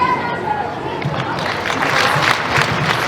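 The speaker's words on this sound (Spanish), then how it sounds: "¡Fuerte las palmas!" Wedding guests clap together in a reception hall, a steady spread of applause mixed with crowd chatter and voices throughout.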